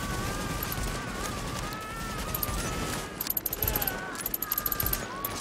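Automatic gunfire in the video game The Division, rapid bursts of shots rattling over a dense, noisy battle background, with a sustained tone running underneath and the later bursts sharper and more distinct.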